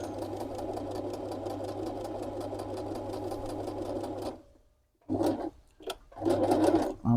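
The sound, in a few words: sewing machine stitching buttonholes on a hoodie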